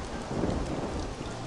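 Steady, dense rainfall from the video game Worms Ultimate Mayhem hisses with a low rumbling thunder underneath, continuous and fairly loud throughout.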